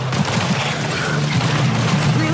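Rapid gunfire from shooting zombies in a PICO 4 VR game, a dense run of shots and booms that keeps going without pause under a low rumble, with a voice talking faintly in the mix.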